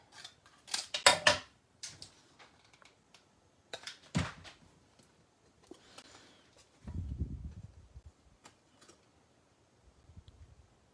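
Scissors snip through card stock in a craft session, a few quick bursts of sharp snipping near the start and middle, with scattered small handling ticks and a soft rustle between cuts.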